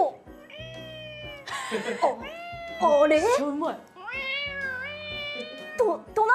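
A cat meows several times in drawn-out, rising and falling calls, close and fairly loud, interleaved with a voice speaking.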